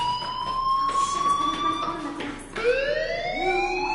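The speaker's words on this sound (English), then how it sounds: "do you hear that fire alarm? That means you should be outside." A school fire alarm rings in the video game Life is Strange, a loud steady electronic tone that sweeps upward, with a soft voice underneath.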